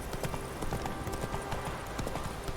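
Rapid hoofbeats of a galloping horse in The Witcher 3: Wild Hunt, a dense steady clatter of hooves close by and fairly loud, with the game's ambient noise underneath.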